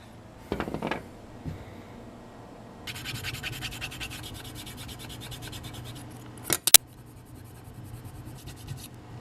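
An old 1980s gum eraser rubs grime off the contacts of a Nintendo cartridge, making soft, close scratchy strokes in bursts, with a brief clatter of handling partway through.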